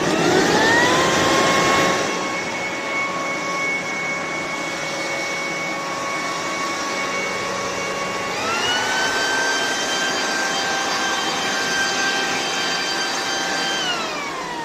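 A Black+Decker 3-in-1 leaf blower and vacuum with shredder, plugged in and running alone: a loud, steady motor whine with strong harmonic tones that shift upward in pitch partway through, then hold level at full speed.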